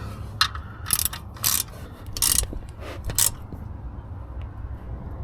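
A ratchet with a 14mm socket works a bolt on an oil-leaking vehicle part, making several short, close bursts of clicking separated by pauses.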